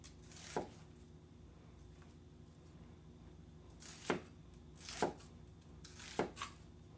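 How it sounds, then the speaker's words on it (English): A sharp knife chops onions on a board in a home kitchen, with four sparse, crisp cuts spaced apart over a quiet room background and no talking. "I don't know why I started cutting the onions first."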